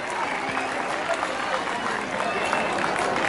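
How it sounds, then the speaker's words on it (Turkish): Loud, steady applause from an audience honoring the prize-winning contestants at an okra and melon cooking competition in Silivri, dense clapping filling the whole stretch with crowd murmur underneath. "Kuvvetli alkışlarınızı duyabilir miyiz dereceye giren yarışmacılarımız için?"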